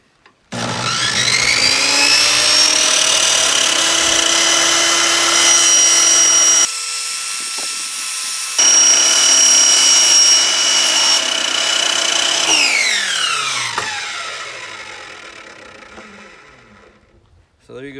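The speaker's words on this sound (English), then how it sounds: "Now I'll cut it to the right dimension" A power tool cuts a plastic cup down to size for a wick garden reservoir bucket, whining loudly and steadily for several seconds, dropping out briefly, resuming, then winding down slowly to a stop.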